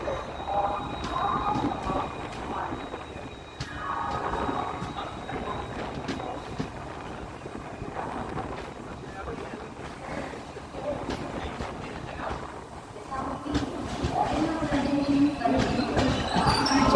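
Train standing at platform 1 of an Indian railway station, the Mangalore Yeshwantpur Gomateshwara Express; a continuous low rumble and clatter with scattered metallic knocks and station bustle, and voices talking faintly throughout.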